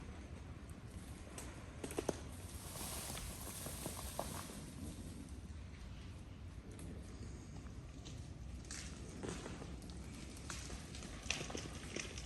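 Footsteps crunching through ice-coated debris and fallen branches outdoors after an ice storm in Clackamas County, Oregon, a steady crackling walk at close range with no talking.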